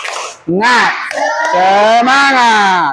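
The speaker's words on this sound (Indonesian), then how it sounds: "coba kita tepuk semangat dulu" Schoolchildren in a classroom join in a loud clapping and chanting cheer, their voices rising together in a sustained, rhythmic group shout close by.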